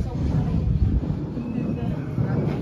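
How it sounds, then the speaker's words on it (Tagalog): Steady, strong wind buffets the microphone with a continuous low rumble and roar, without pauses. "Lakas po ng hangin"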